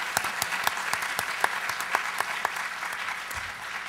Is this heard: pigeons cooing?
no